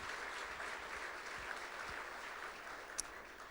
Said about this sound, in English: So please, a huge round of applause.